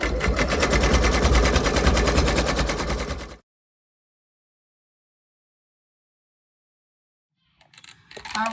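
An embroidery machine stitches an elf sweater design in a loud, rapid, rattling burst lasting about three seconds. Silence follows, then faint handling noises near the end.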